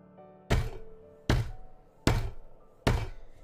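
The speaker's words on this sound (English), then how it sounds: "Here, I'll pat your back." Four heavy, hollow pats on a dog named Bullet's back land close up, spaced roughly evenly about a second apart, each a dull thump fading quickly.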